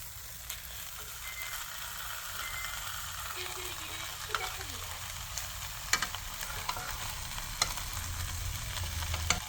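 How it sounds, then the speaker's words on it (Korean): Seasoned eel grills with a quiet, continuous crackling sizzle, broken by scattered sharp pops and ticks, heard without talk and at a low level throughout. "이렇게 이제 한 번만 구워주면 맛있는 장어구이가 됩니다."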